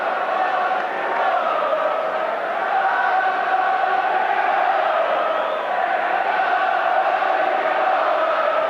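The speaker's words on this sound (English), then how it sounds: "And that's brought the crowd to life." A football crowd at a Canon League Division One match between Queen's Park Rangers and Manchester United in 1984 roars after goalmouth action, a broad sustained roar that swells and dips slightly over about nine seconds.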